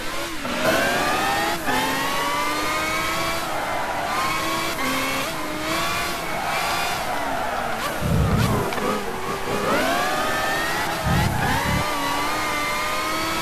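Honda HSV-010 race car in Gran Turismo 5, its engine whining and revving continuously with rising and falling pitch through shifts, loud and close, with brief low thumps and faint talk underneath.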